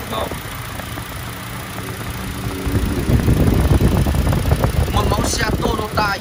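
A 2014 Toyota Innova E with a manual gearbox and a 2.0 engine idles steadily, then grows louder and rougher partway through, while someone talks over it.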